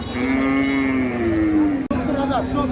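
A cow lets out a long, low, sustained moo at a village cattle market in Keraniganj, Bangladesh, heard close over a steady hum of crowd chatter.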